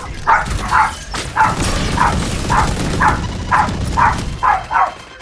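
A dog barks repeatedly in a steady rhythm, about ten sharp, loud barks close by over a low rumbling background, heard during a Valorant game session.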